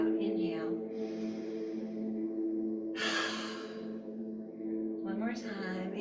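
A person exhales audibly during a yoga exercise, a loud broad breathy rush near the middle, with softer breaths at the start and end, all over continuous background music.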